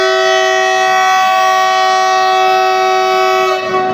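A train at Rajkot station sounds a long, loud, steady horn blast with a rich stack of sustained harmonic tones, close by and unbroken for several seconds before cutting off at the end.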